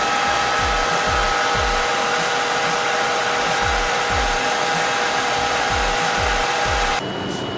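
A hair dryer blows hot air onto hair under a shower cap for a heat treatment, a loud steady whine with rhythmic low thumps and rustles as it moves, cutting off near the end.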